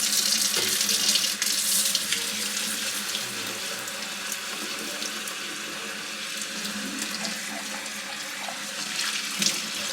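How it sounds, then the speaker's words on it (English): Running tap water rinsing rice in a sink, a steady hissing splash with small irregular bursts and trickles, fairly close and continuous without any talk. "Watch the color of the water when we rinse this"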